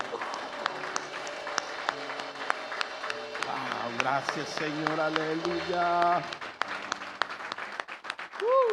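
Church congregation clapping hands as an offering of praise during a worship service, steady applause running under spoken exclamations and music-like tones, with talk throughout.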